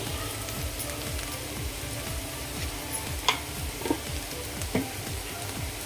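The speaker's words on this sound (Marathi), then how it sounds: "आता आपण व्यवस्थित हे मिक्स करून घेऊयात भाजी ही सर्व मसाल्यांमध्ये व्यवस्थित मिक्स करून घेऊया" Mashed potato bhaji being stirred in a pan with spices and salt, a steady soft sizzle under repeated scraping and stirring strokes, with a few sharper clinks of the spoon against the pan; no talking.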